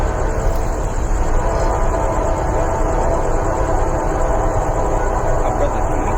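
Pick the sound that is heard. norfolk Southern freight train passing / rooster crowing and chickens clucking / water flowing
norfolk Southern freight train passing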